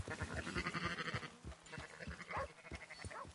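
Sheep bleat repeatedly in Red Dead Redemption 2, with a string of overlapping, wavering calls at moderate distance, continuing steadily throughout.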